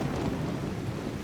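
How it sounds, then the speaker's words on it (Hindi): Heavy rain with thunder at night in a Bollywood romantic action film scene: a steady, loud downpour wash with a deep rumbling undertone throughout the brief moment, no voices. "कपड़े गीले हो गए हैं और बारिश भी बहुत है"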